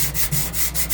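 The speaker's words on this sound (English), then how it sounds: "what I'm doing is that I'm gonna be sanding it," Steady rhythmic sanding of rust inside a microwave oven, several quick back-and-forth rubbing strokes close up with no voices.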